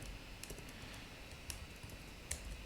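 Typing on a computer keyboard while writing Ruby code: faint, close key clicks spaced irregularly over a steady background hiss, with one slightly louder tap near the end.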